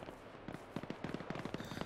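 Automatic machine gun fire from the hilltop in the military game ArmA 3 crackles as a quick series of sharp, fairly faint distant bursts over a steady background hum.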